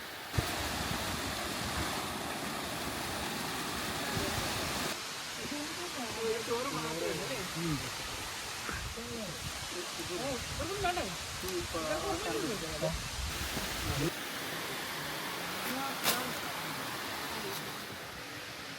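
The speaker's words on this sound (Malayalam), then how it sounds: "വെള്ളച്ചാട്ടത്തിൻ്റെ സൗണ്ട്." A waterfall on the Agasthyarkoodam trekking trail in Kerala, heard alongside wind, gives a constant broad rushing roar across the whole stretch, while people talk over it in the middle portion.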